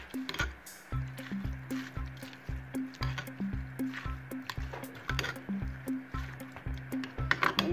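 Noodles mixed with shrimp are stirred in a pan, giving a regular series of soft wet squishing and clacking strokes, close and fairly quiet, repeating about once every half second.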